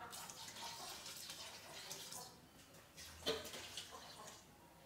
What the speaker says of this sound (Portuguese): E vou pôr um pouco de água fervendo.